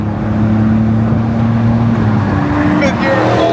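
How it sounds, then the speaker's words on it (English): A kei truck's small engine strains at full throttle in fourth gear, a loud steady drone with harmonic whine holding throughout, while people talk excitedly over it. "100 kilometers in the K truck. This thing's maxed out, bro."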